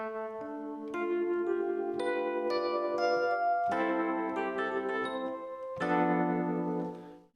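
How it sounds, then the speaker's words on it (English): A free electric piano plugin plays a slow sequence of sustained chords with clear, bell-like attacks and ringing overtones, each chord struck cleanly and left to decay, alone with no talking. "the Sweet Case electric piano by Noise Ash"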